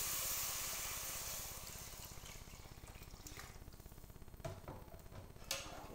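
Water is poured into a cooking pot for coconut rice, a steady gushing splash that gradually softens into a lighter trickle, close up, with no speech.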